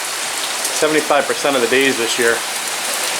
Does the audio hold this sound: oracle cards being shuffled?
no